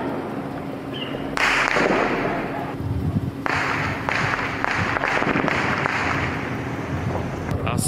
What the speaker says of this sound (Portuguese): Ouça com a gente o barulho desses tiros.